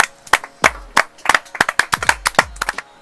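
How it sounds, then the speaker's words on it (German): Applause at a live Twitch streamer event, sharp, distinct claps from a small handful of people, close and loud, arriving in an irregular, uneven rhythm over a few seconds. "Einen Applaus von mir"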